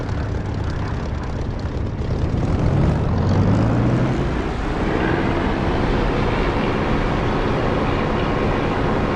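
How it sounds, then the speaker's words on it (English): An aircraft rolling down the runway in the DCS flight simulator game, a loud steady engine drone with a rising whine, continuous and close throughout. "Okay, I'm rolling from roughly centre runway,"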